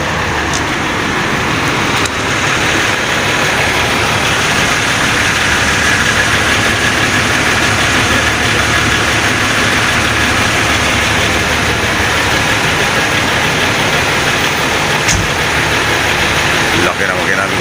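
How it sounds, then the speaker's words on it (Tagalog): A Yutong bus engine idles in a parking area among other buses, giving a loud, steady, heavy rumble that continues unbroken and close by throughout. "Ito pala yung makina ng Yutong."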